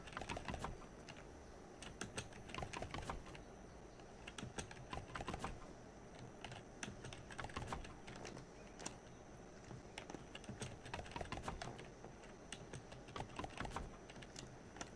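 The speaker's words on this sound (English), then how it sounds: "Need to get a silent keyboard. Or a quieter keyboard, anyway." Rapid, steady clatter of fingers typing on a loud computer keyboard, close up and continuous, with dense bursts of keystrokes and no speech.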